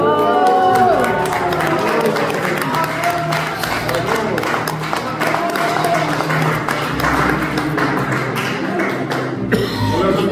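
An audience at a private magic, mentalism and hypnosis show claps steadily, dense and continuous, with some murmuring and cheering mixed in, lasting the whole stretch.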